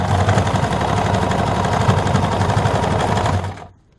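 Sewing machine zigzag stitching ribbon onto a purple garment, a loud rapid even mechanical whir that runs continuously for several seconds, then stops abruptly.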